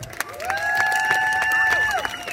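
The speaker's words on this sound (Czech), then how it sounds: "ještě jednou pořádný potlesk" Audience clapping and cheering heartily on cue at a stage introduction, with a whistle-like tone sliding over the steady applause.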